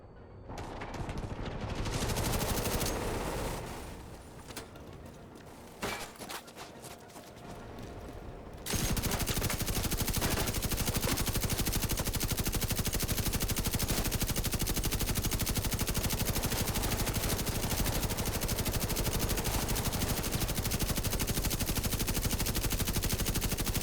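An LMG in a video game starts with a few scattered bursts, then settles into sustained, dense automatic fire that rattles on continuously for a long stretch.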